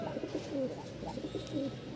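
A male Rajshahi giribaz pigeon coos close by in a short run of soft, throaty, repeated calls with no voices over them.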